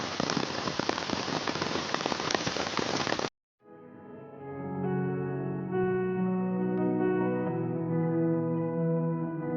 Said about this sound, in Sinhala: අපි ටිකක් වෙලා එතන ඉන්නකොට වැස්ස පටන් ගත්තා.